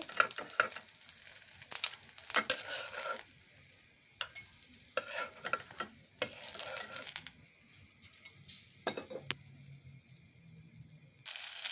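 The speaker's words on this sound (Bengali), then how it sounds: "বাকিগুলোকে ভাজতে দিয়ে দিয়েছি" Cabbage fritters frying in a little oil in a pan, a steady sizzle broken by bursts of stirring and pieces being scraped and lifted, with occasional clinks of utensils against the pan; no talking.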